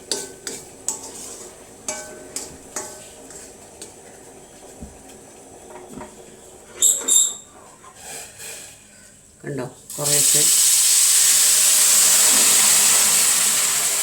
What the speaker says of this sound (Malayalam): നമുക്ക് ഇതിനകത്തേക്ക് തിളച്ച വെള്ളം ഒഴിച്ചു കൊടുക്കാം.